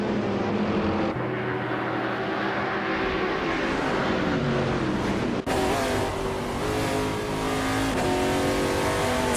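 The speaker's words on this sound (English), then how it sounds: "Billy is driving a Seat Cupra GT from 2003" In a racing video game, a 2003 Seat Cupra GT and rival cars roar continuously, engines revving and shifting through rising and falling whines, loud and dense with overlapping motors.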